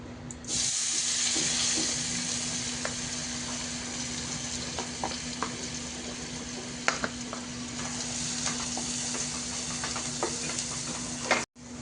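Chopped onion frying in oil and butter, with a steady bright sizzle and hiss throughout, a faint hum beneath, occasional soft clicks of stirring and an abrupt cut at the end.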